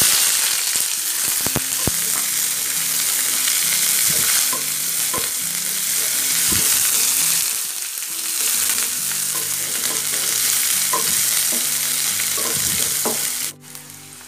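Two sliced onions fry in hot oil for wheat rava upma, a continuous bright sizzle with repeated scraping stirs and clinks of the spoon against the pan, close and loud with no talking.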